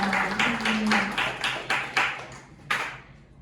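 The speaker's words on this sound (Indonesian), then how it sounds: "beri tepuk tangan untuk kalian" An audience at an Indonesian talk event applauds, a loose wash of clapping with a few louder, distinct claps standing out before it fades away.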